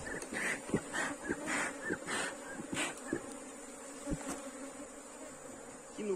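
Apis honeybees swarming during a hive split, moving bees from the mother colony: a steady, dense buzz of many bees close by, with occasional nearer passes and light knocks, no voices.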